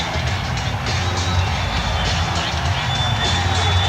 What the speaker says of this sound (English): The crowd here cheering on the Orlando Magic with the best home record in the NBA in the regular season